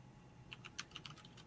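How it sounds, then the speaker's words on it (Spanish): Keys tapped on a computer keyboard while programming: a quick run of light, faint clicks that begins partway through, close but quiet against a low background hum. "Me encontraba precisamente con un sonido como ese de teclado."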